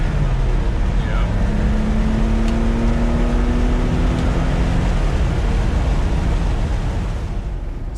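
A 1976-77 Porsche 911 Carrera 3.0 rolls along in second gear. A loud, steady engine drone fills the cabin, with a tone that slowly rises and then eases near the end.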